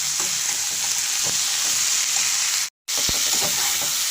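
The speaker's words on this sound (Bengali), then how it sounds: "মশলাটার সঙ্গে ভালো করে এগুলোকে কষিয়ে নেব" Spices and pieces of catla fish sautéing in oil for a curry with bottle gourd greens, a steady close broadband sizzle with scattered stirring scrapes, briefly cut to silence partway through, with no talking.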